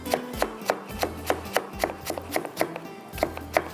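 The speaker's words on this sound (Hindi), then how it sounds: "थोड़ा चॉप करते हैं" A knife chops food on a cutting board in a steady series of crisp, close taps, roughly three per second, with no voices.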